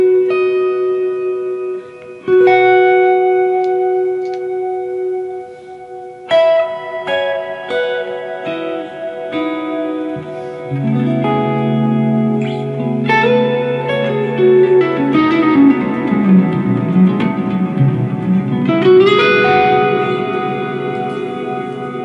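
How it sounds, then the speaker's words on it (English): Sustained guitar notes and chords through a TC Electronic Infinite Sample Sustainer pedal, washed in heavy reverb, each ringing out with a long, shimmering decay that swells and overlaps into a dense tail. "it changes the decay of the reverb."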